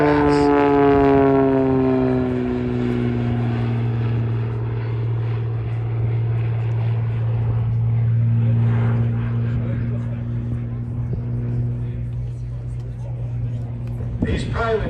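A WWII-era propeller airplane passes low overhead at an air show, a loud droning engine roar holding steady then fading, with a crowd and talk underneath.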